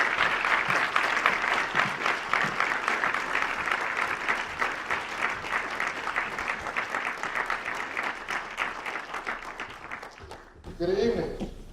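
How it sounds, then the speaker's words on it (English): Warm audience applause for a guest speaker at an economics evening event, sustained dense clapping that gradually tapers off, followed by a speaker's voice at the end. "please give me a warm round of applause for our speaker"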